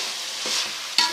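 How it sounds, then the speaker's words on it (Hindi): Boiled potatoes and peas are stirred into a chicken macaroni mixture in a hot pan: a few short scraping stirring strokes over a soft, steady sizzle, close up. "उबले हुए आलू और मटर भी इसमें शामिल कर देते हैं और इसको अच्छे तरीके से मिक्स करते हैं"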